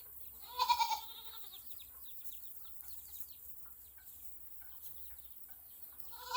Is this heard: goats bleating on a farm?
yes